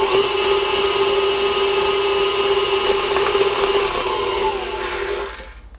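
A stand mixer with a whisk attachment whirs steadily as butter is whisked into Swiss meringue buttercream, a constant motor whine close by that cuts off at the end.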